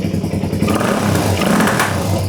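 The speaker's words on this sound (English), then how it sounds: "and it revs. It's very loud, and the pipe has no baffling in it. It's popping way too much." Someone revs a loud motorcycle with no baffling in its exhaust pipe. The engine roars up and down close by, with rough crackling pops and clattering mixed into the exhaust note.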